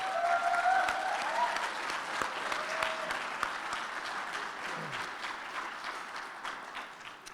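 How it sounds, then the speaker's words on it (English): A crowd at a 2019 Spokane graduation ceremony applauds the graduates with sustained, even clapping that fills the hall. A few whistles rise above it early on. "Please give these graduates a big round of applause."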